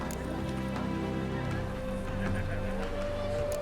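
A horse in The Witcher 3 whinnies over continuous clip-clopping hooves, with a faint voice and ambient game sound underneath.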